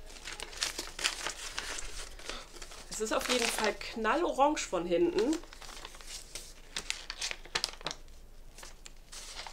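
A stiff wrapping paper on a Halloween swap parcel crinkles and rustles in close, bursty handling throughout. A person speaks over part of it.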